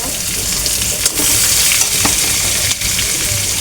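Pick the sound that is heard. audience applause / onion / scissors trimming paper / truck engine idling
onion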